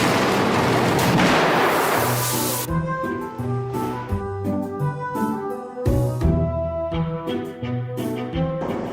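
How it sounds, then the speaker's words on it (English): Coca-Cola bottles burst in a rapid series of sharp bangs and spraying fizz, starting with a dense rushing burst and then scattered, loud, irregular pops and splashes close by. "More bottles of Coke exploded when Stepan turned on the construction."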